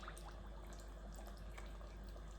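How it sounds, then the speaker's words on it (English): Water is poured onto cornmeal and stirred for Jamaican cornmeal porridge with peanuts, giving a quiet, steady liquid wash with faint scraping and sloshing textures close by, with no talking. "you pour 1 pint of water on your cornmeal and you stir like so"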